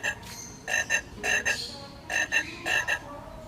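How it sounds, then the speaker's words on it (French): Toads croak outdoors on a building site in a quick series of raspy, pulsing calls, several clustered bursts repeating close by over a quiet background, with no talking. "il y a un truc qui fait des crapauds là"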